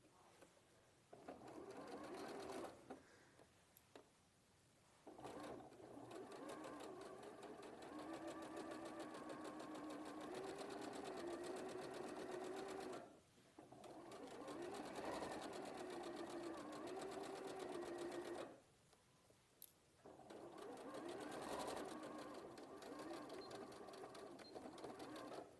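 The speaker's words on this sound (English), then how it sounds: "this is a viscose, and a lot of people are scared of working with viscose, but it's sewing through here absolutely fine" A sewing machine stitches through viscose fabric in long steady runs of rapid, whirring needle strokes, stopping briefly between runs, heard close, with no one speaking.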